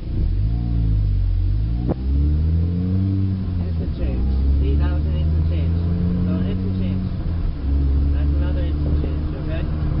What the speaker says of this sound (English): what you want to hear is an instant change in the transmission